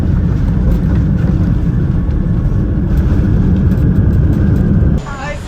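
Airliner cabin on approach and landing at Honolulu airport: a loud, steady broadband engine and airflow roar that fills the clip, then drops away sharply near the end.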